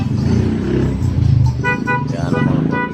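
Musical telolet horn of a white and pink Mobilindo Raja Utama tour bus at Pangandaran beach, honking in repeated tuneful bursts over loud engine rumble and nearby voices.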